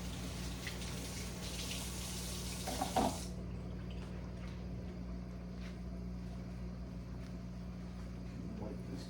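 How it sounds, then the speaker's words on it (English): Running tap water splashes into a sink while knives are rinsed under the faucet, a steady broadband hiss with a brief clatter of metal near the start, then a quieter continuous flow. "So I'm getting some knives washed off so I can get them out of the water"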